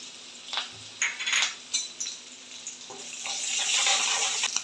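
Crushed garlic with green and dried red chillies hits hot oil for a tempering: a few sharp spitting pops first, then a bright sizzle that swells and holds steady, heard up close without speech.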